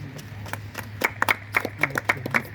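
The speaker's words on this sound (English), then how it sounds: "Let us give him a lot of applause." A small group of people applaud at an event about moringa farming, the claps sparse and uneven, about a dozen distinct hand claps over a low background hum.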